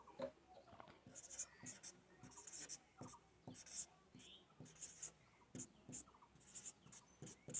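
Pen scratches on paper while an example is written out during an English grammar lesson, in short quiet strokes and bursts with brief pauses, close to the microphone.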